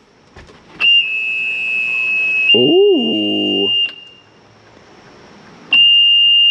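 The fuel-injected Mercruiser fuel pump on the port engine of a 1985 Chris Craft 312 Stinger gives a high, steady electric whine for about three seconds, then stops and starts again. A person briefly exclaims over the first run.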